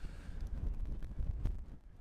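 Gusty wind of about 14 knots buffets the microphone at the Sun River airstrip with a low, uneven rumble, swelling and easing in bursts over a couple of seconds.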